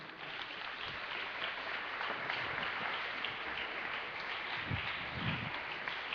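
Congregation in a church service applauding together, a steady dense wash of clapping that holds loud and even throughout with no pauses.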